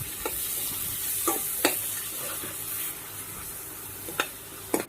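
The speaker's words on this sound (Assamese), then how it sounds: "আৰু এইখিনি মই এতিয়া মিলাই ভালদৰে ভাজি ল'ম" Spices with turmeric and salt fry in a pan for an Assamese mustard-seed fish curry, giving a soft, steady sizzle broken by a few sharp spoon scrapes against the pan as the mixture is stirred.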